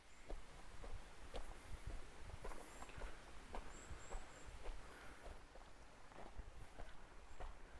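Steady footsteps crunch along at a brisk walking pace, close by, on a walk through Groudle Glen, with a faint bird chirping now and then in the background.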